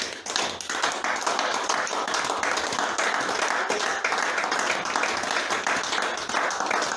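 A church congregation applauds and cheers for the Lord at a morning service. Dense, steady clapping fills the room with a loud, continuous roar of many hands.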